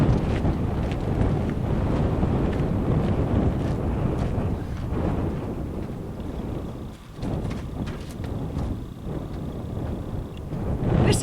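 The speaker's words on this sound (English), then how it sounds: "right now it's windy out here, as you can probably hear and see" Strong outdoor wind buffets the microphone in a constant low roar, gusting unevenly throughout with no speech, during setup of an Aliner Ranger 12 camper.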